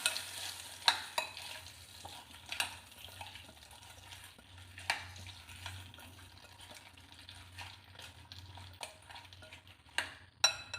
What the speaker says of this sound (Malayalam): ഈ ഇത് അച്ചാറിലേക്ക് ഒഴിച്ച് കൊടുക്കാം കേട്ടോ ഒഴിച്ച് കൊടുക്കുന്ന ഒന്ന് ഇളക്കി കൊടുക്കാം